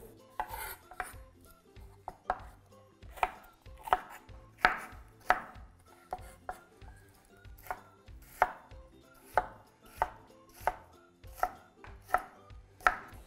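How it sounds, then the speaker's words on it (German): A knife chops bell pepper into roughly 1 cm cubes on a cutting board, a steady run of crisp, close knocks about one or two per second, with no talking. "Paprika alles schneide ich ca. 1 cm Würfel."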